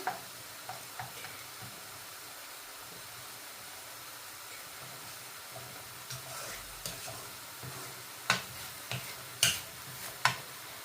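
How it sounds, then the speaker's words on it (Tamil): Cinnamon, cardamom and cloves fry in hot oil for Sri Lankan seeni sambal, with a soft, low sizzle and hiss. A few sharper pops and clicks from stirring stand out toward the end. "இந்த பட்டை ஏலக்காய் கராம்பு எல்லாத்தையும் இதில் நாங்கள் போட்டுக்கொள்ளுவோம்"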